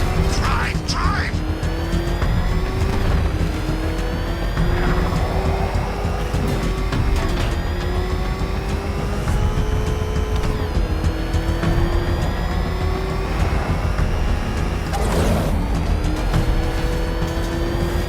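Cars in Batman: Arkham Knight speed off with tires squealing and engines revving and rising in pitch, a loud continuous rush with repeated skids and sweeps, while voices shout over it.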